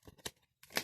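Oracle cards being shuffled by hand during a card reading, two short quiet bursts of riffling with a brief pause between, no voices.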